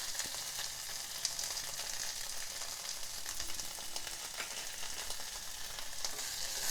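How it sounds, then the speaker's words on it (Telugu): Coriander stems and curry leaves fry in hot oil for an amla and fresh coconut chutney, giving a steady, close crackling sizzle with scattered sharp pops and no talk. "ఈ 2 నిమిషాలు వేగనివ్వాలి."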